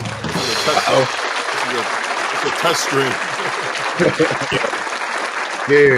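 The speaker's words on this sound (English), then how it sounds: "Premature clapping." Premature clapping and applause during a podcast intro, a dense steady patter running throughout under overlapping talk and laughter, with a louder burst near the end.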